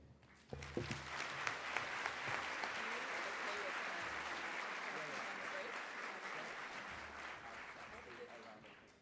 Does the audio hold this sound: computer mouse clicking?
no